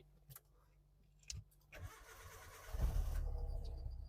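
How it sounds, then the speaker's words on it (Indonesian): A 2001 Hyundai Accent 1.5 automatic sedan engine cranks briefly after a few faint clicks, then catches and settles into a steady, smooth idle, close and clear with no talking. "Nah, kita akan coba suaranya dulu."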